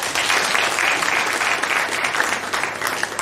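An audience applauds the students due to perform at a Miss Lou 105 celebration, a steady wash of many hands clapping close and loud for the whole stretch, with no voices standing out.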